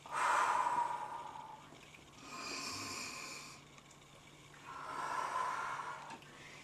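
Slow, audible breaths come in and out during a back stretch at a desk, two long soft exhalations with a quieter inhale between, close and faint with no talking.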